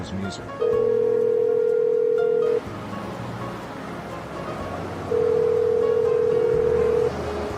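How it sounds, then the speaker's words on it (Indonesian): A steady telephone dial tone sounds twice, each stretch about two seconds long and loud and clear, in an animated drama scene. Low background noise fills the gap between the two tones. "Coba aja telepon ke sini Ken langsung."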